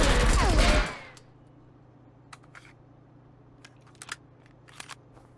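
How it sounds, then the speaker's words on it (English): A MAP 49 rifle fires in the video game Marauders with a loud, dense burst of rapid shots that cuts off abruptly. A quiet stretch with scattered light mechanical clicks follows. "MAP 49 recoil test with a stock"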